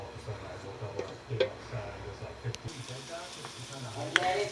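Lobster and shrimp Newburg simmers in heavy cream, a low bubbling sizzle with occasional stirring clinks, while a person talks nearby.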